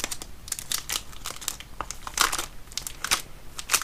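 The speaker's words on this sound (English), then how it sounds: "I'm going to go ahead and open them." Someone tears open a sealed plastic envelope holding a wooden laser-cut kit and its instructions, producing close, continuous crinkling and rustling in quick irregular bursts.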